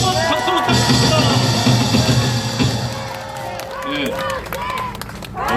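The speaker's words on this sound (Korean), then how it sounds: "애국 수사 강영재 변호사에게 다시 한번 박수 부탁드립니다." Crowd at a political rally in Daegu clapping and whooping, loud and close, with applause swelling then easing off as people talk over it.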